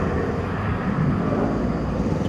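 An Airbus A321 airliner starts its takeoff roll at night, giving a steady, loud jet-engine roar with a deep rumble throughout.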